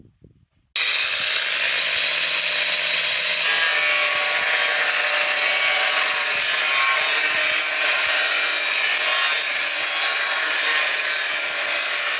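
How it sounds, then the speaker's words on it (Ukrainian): A loud, steady grinding whine of an angle grinder's abrasive disc cutting into fibreglass-and-resin clear roofing sheet, starting abruptly and continuing harshly without pause. "І буду зараз болгаркою вирізати."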